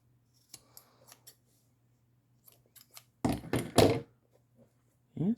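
Scissors snip through leather on a moccasin cuff: a few faint, light clicks early on, then two louder, close crunching cuts in quick succession and a final snip, with a steady low hum underneath.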